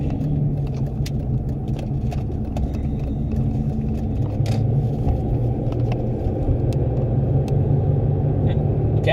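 A Chevrolet Impala drives along a road with a continuous low engine and tire rumble from inside the cabin, plus faint small rattles and clicks.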